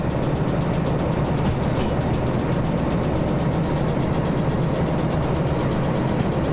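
Train engine labouring to build speed uphill in Trans Siberian Railway Simulator, a loud, constant low drone and rumble that holds steady without talk.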